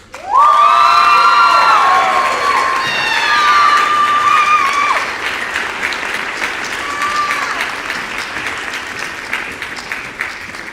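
An audience at a university music convocation applauds and cheers as an outstanding undergraduate performer is called to the stage: loud, dense clapping with shouts and whoops, strongest at first and then easing into steady clapping.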